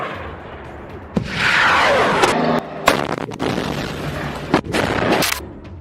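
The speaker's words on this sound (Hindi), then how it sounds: "इसके बाद ये मिसाइलें एक के बाद एक फायर होने लगती हैं।" A salvo of Rajum missiles launched by remote control, a string of sharp booming blasts and whooshing roars following one another over several seconds, loud and close with no talk.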